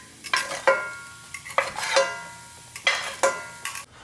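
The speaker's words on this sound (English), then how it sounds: "once you're done sauteing your shrimp" Shrimp sautés in a pan, heard up close as about six separate scraping stir strokes over a light sizzle. The strokes come in a loose, uneven rhythm, with no voices.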